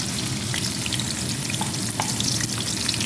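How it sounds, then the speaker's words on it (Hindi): Chopped onions hitting hot oil in a karahi for a Lahori chicken karahi, giving a steady, close hiss with scattered crackles and pops throughout, no voices. "ये ऑयल हमारा गर्म हो चुका है। अब इसमें प्याज डालेंगे।"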